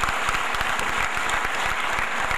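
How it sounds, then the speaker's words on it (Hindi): Loud, dense audience applause fills a hall at a gold medal function and comic poetry gathering, steady and unbroken throughout with no talk over it. "तो एक बार इनके लिए आप जोरदार तालियां बजाइए।"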